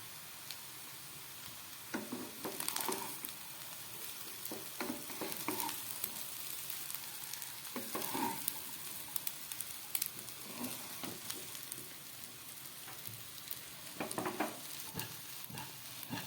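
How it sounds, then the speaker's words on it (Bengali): Restaurant-style mixed fried rice with vegetables, egg, chicken, paneer and prawns is tossed in a pan held by both handles. A soft, steady sizzle is broken by repeated scraping and clattering stirs. "ঠিক এইভাবে হাতল দুটো ধরে ফ্রাইড রাইসটাকে মিক্সড করতে হবে সমস্ত সবজি, ডিম, চিকেন দিয়ে।"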